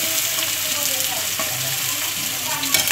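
Chopped onion hits hot oil in a kadai and fries with a steady, close hissing sizzle for about three seconds, broken by a few light clatters of stirring, with no talk over it.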